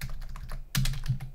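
Quick burst of computer keyboard keystrokes typing a sudo command into a Raspberry Pi terminal, close and crisp, with a slightly louder flurry of taps toward the end.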